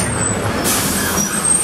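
A bus's air brakes hiss in a sustained, fairly loud burst of release on a trip to the Nami Island wharf, with a road-vehicle rumble underneath.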